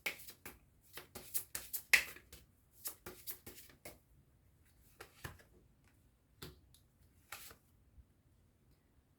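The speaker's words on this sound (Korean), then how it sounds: "그럼 조언점 카드 뽑아보도록 할게요." Tarot advice cards being shuffled and drawn: a run of sharp riffling snaps and taps, close and fairly quiet, that thins out into scattered single clicks with no talk.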